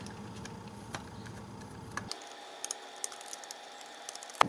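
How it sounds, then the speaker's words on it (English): A screwdriver loosens Phillips screws on the wiring connection of a garbage disposal. It gives faint, sparse metallic clicks and small scrapes against a quiet room hum, with a few sharper ticks near the end. "Just disconnect it with the screwdriver."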